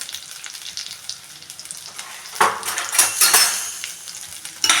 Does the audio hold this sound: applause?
no